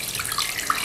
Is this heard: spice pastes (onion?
no